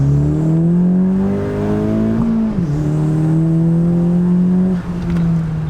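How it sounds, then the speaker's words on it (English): A 10th gen Honda Civic Si with an upgraded turbo pulls hard in second gear, its engine loud and close, the revs climbing steadily with a couple of brief dips before rising again. "We'll get a second gear pull in there."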